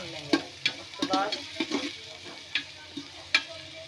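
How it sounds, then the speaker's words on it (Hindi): Onions fry in a pan and are stirred repeatedly, with a spoon scraping and tapping against the metal over a soft, steady sizzle. The sounds are close, and no one talks. "ये हमने अपनी प्याज इसमें डाल दी है, अब हम इसको थोड़ी गोल्डन ब्राउन करके भून लेंगे"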